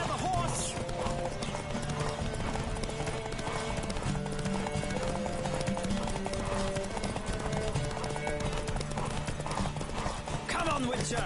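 Hooves of a horse galloping hard in The Witcher 3: Wild Hunt drum in a fast, unbroken rhythm, loud and close, with a faint whinny near the end.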